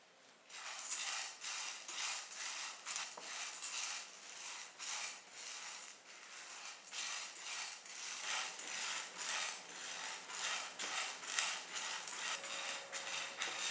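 Around 200 grams of chana dal and five dried red chillies are dry-roasted in a pan, stirred with a rhythmic, close scraping and rattling of the dry lentils that keeps going steadily throughout, with no talk.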